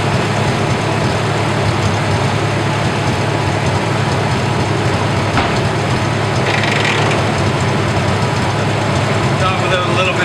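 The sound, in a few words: tractor PTO gears grinding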